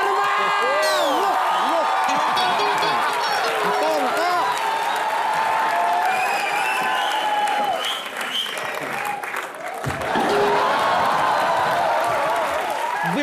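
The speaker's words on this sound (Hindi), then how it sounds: "जोरदार तालियां करण सर के लिए." A TV comedy show studio audience bursts into strong, sustained applause with cheers and whoops as Karan Johar is welcomed. The noise briefly dips, then surges back.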